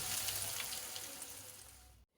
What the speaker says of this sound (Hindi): यहाँ फ़िश फ्राई हो रही है।